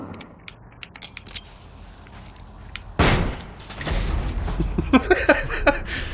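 A flashbang in the video game Alan Wake goes off with a sudden loud bang after quiet ambience, followed by a lingering, ringing noisy tail and several sharp smaller hits.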